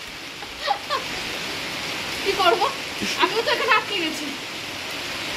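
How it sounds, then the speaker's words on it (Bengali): Steady rain falls throughout in rainy, stormy weather, a constant broadband wash with no breaks, while someone speaks over it in the foreground. "বৃষ্টিও বাড়ছে"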